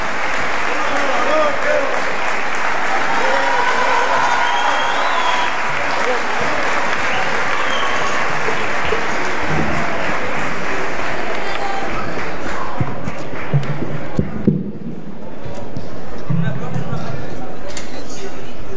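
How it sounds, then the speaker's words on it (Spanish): An audience at Colegio Don Bosco Iquique, a school, applauds student performers with loud, sustained clapping and crowd noise lasting nearly twenty seconds. It dips briefly near the end, then resumes. "Un aplauso para ellos por su destacada participación."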